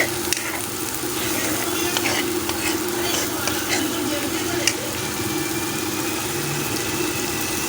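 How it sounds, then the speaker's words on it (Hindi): Maghaz (brain) frying in oil, a steady, fairly loud sizzle that continues evenly throughout with a low background hum. "और ये मज़ीद हम 2 से 3 मिनट और भून लेंगे इसे,"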